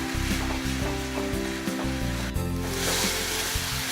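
Masala for egg masala sizzling in hot oil in a pan, a steady loud crackle with brief stirring scrapes, close up and continuous.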